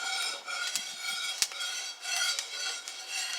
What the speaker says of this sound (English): you hear the second crack, the little muted Rice Krispie sounding crack